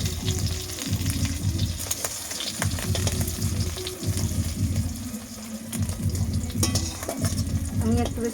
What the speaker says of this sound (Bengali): আমি একটু বেশ লাল লাল করে ভাজবো ডিমটা